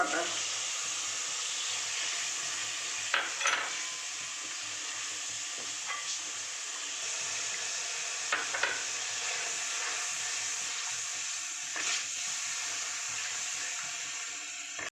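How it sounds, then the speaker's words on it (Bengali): Whisked yogurt with a spice and cashew-poppy seed paste is stirred in a hot pan, giving a soft continuous hiss and sizzle broken by a few light spoon scrapes, quiet and close. "এবার টক দইটা দিয়ে এবার ঘন ঘন আমাকে নাড়তে হবে"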